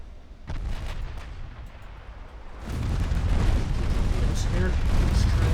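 Battleship main guns fire in the naval game Ultimate Admiral Dreadnoughts, deep rumbling booms swelling into a sustained heavy roar of gunfire and explosions, with a voice talking over it.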